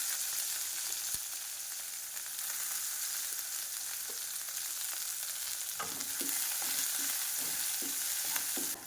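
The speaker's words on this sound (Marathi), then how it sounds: "तेल तापले की आपल्याला त्यामध्ये कट केलेलं लसूण घालायचं आहे। त्यानंतर हिरवी मिरची, त्यानंतर चिरलेला कांदा" Chopped garlic, green chili and onion frying in hot oil for homemade pasta, a steady close sizzle with occasional stirring clinks and scrapes toward the end, no talking.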